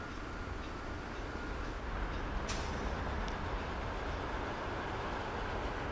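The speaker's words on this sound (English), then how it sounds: "Trains meeting up along the way" Trains run through a Transport Fever 2 rail network, giving a steady, continuous rumble and rolling rush of wheels with a brief high hiss, much like an air brake, and no voices over it.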